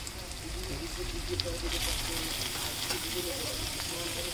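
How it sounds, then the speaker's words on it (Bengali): Small chopped pieces of goat fat sizzle in a pan of fried onions, a steady close crackling hiss that continues throughout, with a faint voice under it. "আমরা এবার উপর থেকে দিয়ে দিচ্ছি ছোট ছোট করে পিস করে কেটে রাখা খাসির চর্বিগুলি"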